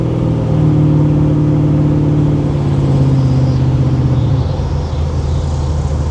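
A Monte Carlo SS with a newly fitted transmission cruises at road speed, its engine giving a steady, loud drone from inside the car that drops in pitch near the end as it shifts.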